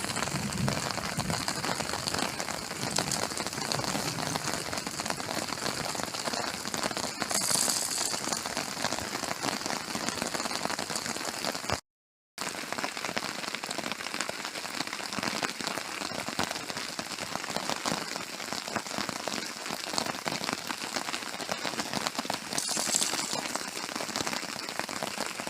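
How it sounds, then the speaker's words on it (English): Heavy rain pours steadily during a thunderstorm at a wild camping spot on an ancient Iron Age hillfort, a dense, constant hiss of drops on a surface close by, briefly cut out midway and then continuing unchanged. "Absolutely hammering it down."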